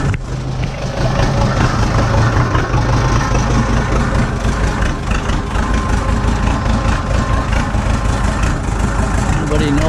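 A 1994 7.4L engine, newly installed in a K3500 truck chassis, idles with a steady, loud, low rumble right up close, while a voice talks briefly over it.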